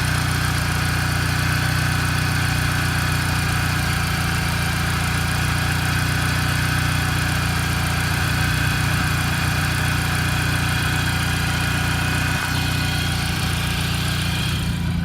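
A Mini Cooper R53 John Cooper Works engine idles steadily in an open engine bay, a loud continuous hum with a faint high whine and no voices, holding even and unchanged from start to finish.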